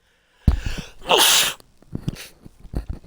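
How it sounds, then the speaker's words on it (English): One loud, sharp sneeze bursts out close by, preceded by a quick intake of breath and followed by faint shuffling. "I got a sneeze coming out."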